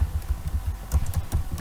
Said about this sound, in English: on your keyboard now, let us type